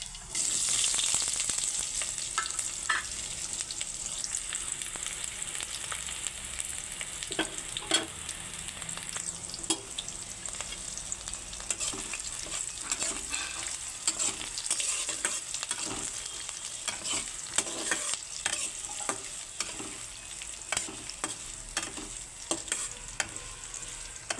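Panch phoron and chopped onion fry in a pan with a steady, bright sizzle throughout, broken by frequent scraping and clinking of a spatula stirring against the metal. No voices.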